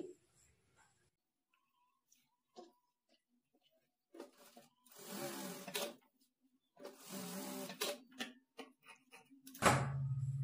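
A sewing machine joins stitch pieces onto a blouse sleeve of main fabric, running in a few short bursts and longer runs with quiet gaps between, ending in a louder, lower whir.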